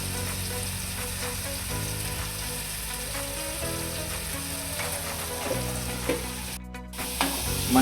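Prawn curry masala with salt and turmeric sizzles steadily in a pan while being stirred, a continuous close frying hiss with scraping stir strokes, a brief louder clatter near the end.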